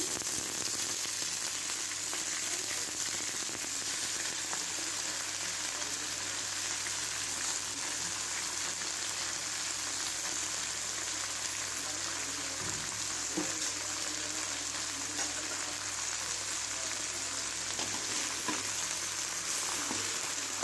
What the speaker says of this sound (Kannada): ಇದು ಎಣ್ಣೆಯಲ್ಲಿ ಚೆನ್ನಾಗಿ ಫ್ರೈ ಹಾಕಬೇಕು